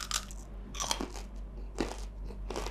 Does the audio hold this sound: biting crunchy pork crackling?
yes